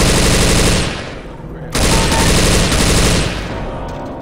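Left 4 Dead 2 gunfire, loud and close: sustained automatic bursts that break off briefly, then resume in a dense rattle before easing at the end.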